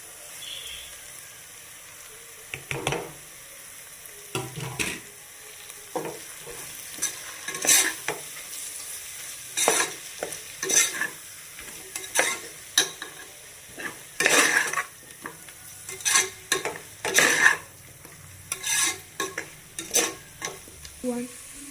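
Masala powders for a vegetable biryani stirred and frying in a pan, a steady close sizzle broken by repeated scraping strokes of a spoon against the metal, with no voices.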